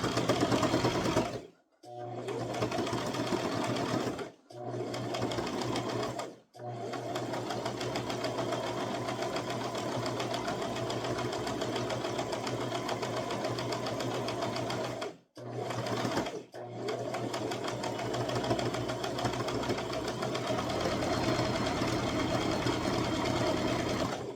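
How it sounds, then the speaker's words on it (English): A sewing machine stitches around a toddler crossbody purse, running in long steady whirring bursts with several brief stops between runs, close and loud. "we're going to sew all the way around"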